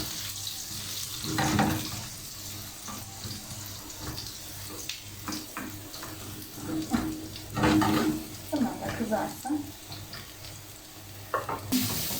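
Eggplant fries in hot oil in a pan with a steady close sizzle, broken by louder bursts of spattering and clatter as pieces are moved and stirred. Running water sounds nearby.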